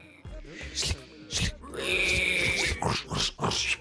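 Pigs hunting truffles in the game Hidden Folks let out a string of short, close grunts and snorts, with one longer squealing oink in the middle, alone and without talk.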